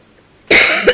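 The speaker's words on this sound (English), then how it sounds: "excuse me, coughing." A single loud, harsh cough right up close, breaking out of near silence and lasting about half a second.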